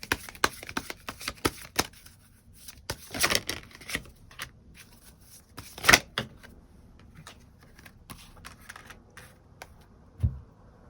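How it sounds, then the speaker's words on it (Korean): Tarot cards being shuffled and drawn close by, soft irregular riffles and taps with a few sharper slaps, with no talking. "추가 카드 뽑아보도록 하겠습니다"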